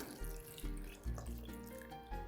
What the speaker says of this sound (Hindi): अब मैं इसमें ऐड कर दूंगी वाटर 1/2 लीटर